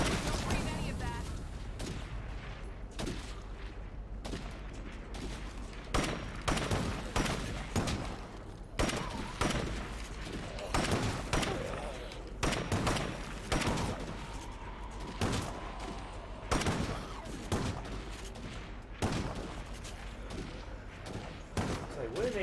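Rapid bursts of gunfire crackle through a video game firefight, repeated volleys and single shots clustering in uneven rhythm, loud and close, with a player talking now and then over the shooting.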